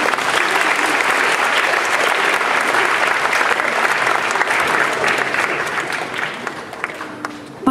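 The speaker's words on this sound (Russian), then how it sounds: "А мы похлопаем вам." An audience at a stage event gives sustained, dense applause that keeps going for several seconds and then thins out slightly near the end.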